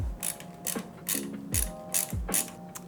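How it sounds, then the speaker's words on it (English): Screwdriver unscrewing a screw from a pink Y70 gaming PC case, with a repeated ratcheting clicking in quick regular strokes, close and fairly quiet, without talk. "we're gonna go ahead and unscrew this one as well"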